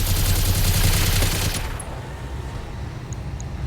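Sustained machine-gun fire from a mech in the BattleTech video game, a dense roaring burst that cuts off midway and leaves a quieter rumbling tail with faint beeps.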